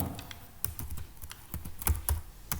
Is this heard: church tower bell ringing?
no